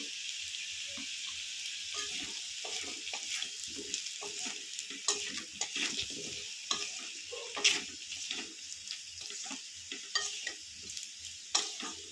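Masala of turmeric, cumin, coriander and chilli powder fried and stirred in a pan for a vegetarian taro curry, close sizzling with frequent spatula scrapes and stirring clatter throughout, no voices.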